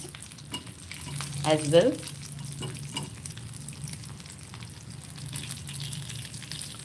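Urad dal and red chilies fry in a pan, a low steady sizzle with a few stirring scrapes and a brief bubbly liquid gurgle, while a voice speaks briefly.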